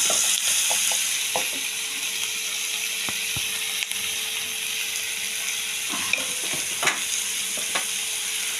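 Steady sizzle of spices frying in a pan for chana masala, punctuated by scattered scraping and clicking sounds from stirring.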